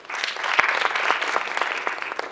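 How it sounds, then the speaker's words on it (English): An audience applauds a panelist at a township business investment panel event: a steady, dense wash of many hands clapping close by, with one sharp louder clap near the start, sustained throughout. "Please give her a round of applause."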